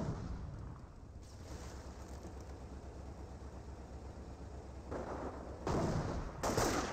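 Sustained rumbling battle din of World War II combat in Company of Heroes, Panzer Elite against US forces, with dense overlapping gunfire and explosions, swelling louder in bursts toward the end, no talking.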